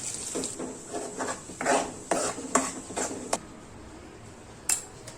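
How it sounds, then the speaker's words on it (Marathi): Masala paste dropped into hot oil for a sprouted moth bean curry, giving a scraping, stirring clatter of a spoon against the pan over a steady sizzle, with a sharp clink near the end. "तेल गरम झाले त्यामध्ये वाटण टाकले"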